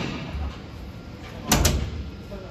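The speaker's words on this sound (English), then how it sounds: "The aluminium door." An aluminium door on a 9.5 m patrol rescue boat closes with a single solid thud and a short rattling after-knock, close by, over quiet background hiss.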